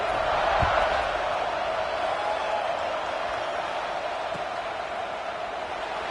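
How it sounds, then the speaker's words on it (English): Football stadium crowd after a score, a broad, steady roar of many voices filling the space, distant and unbroken, with a couple of faint thuds. "this crowd is buzzing after that last score."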